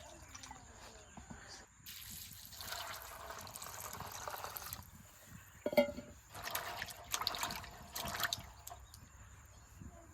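Chickpeas being rinsed in cold water in a home kitchen: intermittent splashing, trickling and pouring bursts, faint to moderate and close, separated by quieter pauses.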